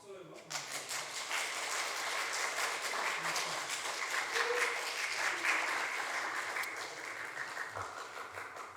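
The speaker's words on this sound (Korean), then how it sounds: "박수 여러분" A church congregation applauding at an anniversary Sunday worship service, heard as sustained, dense clapping lasting several seconds, fairly close and steady, with faint voices underneath.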